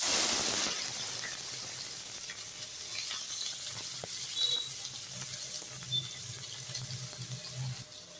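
Steady sizzling of chopped onions frying in hot oil, a continuous crackling hiss throughout with a few small clinks, no talking.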